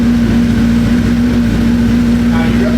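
A first-generation Suzuki Hayabusa motorcycle, just repaired after a misfire, warms up with a steady engine drone and a low, constant hum, idling evenly without clear revving throughout.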